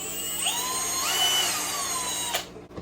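Power drill boring a hole through the top of a homemade breeder box for an airline, a close whining whir that rises in pitch and then cuts off, with no talking.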